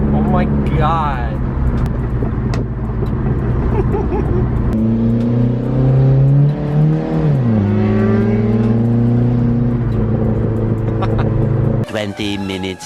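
Close, loud exhaust of a Chrysler PT Cruiser GT with a modified exhaust and a 4-inch tip, revving up and falling back with crackling, idling unevenly underneath, while people talk over it.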